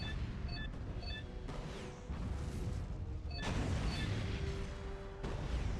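Turret fire in the video game Ratchet & Clank: A Crack in Time, with repeated booming blasts and crashes over dense, loud game noise and music for several seconds.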